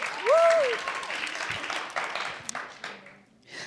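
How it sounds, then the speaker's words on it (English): Audience applause after someone is introduced at an advocacy organizing event, a crowd clapping loudly at the start and then thinning, with a whooping cheer over it and a voice speaking near the end. "So let's give her a round of applause."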